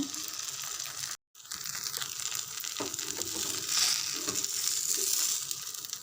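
Ragi rava dosa frying on a pan as oil is poured around it, giving a steady close crackling sizzle that swells slightly toward the end, with a brief dropout early on.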